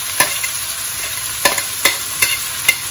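Chopped onion, ginger garlic paste, cardamom and cinnamon frying for chicken biryani, a steady hiss punctuated by five or six sharp spatula scrapes against the pan, close by, no talking.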